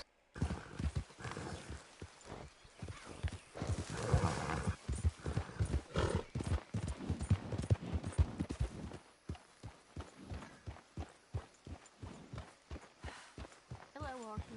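Horse hooves clip-clop rhythmically in Red Dead Redemption 2, with a steady trot of close, clear hoofbeats running throughout, under a voice speaking and a brief whinny near the end.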